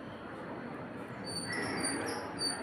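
Train rolling past in the distance near an outdoor wood-fired stove, a steady broad rumble with faint high squeal, gradually swelling slightly louder over a few seconds.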